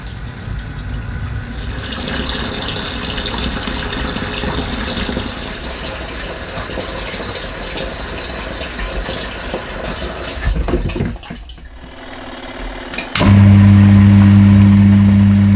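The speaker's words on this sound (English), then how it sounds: "then you can start filling again with a second rinse." A portable washing machine tub fills with water for a rinse cycle, a steady rushing gush of water close by, then a sudden switch to a loud constant hum near the end.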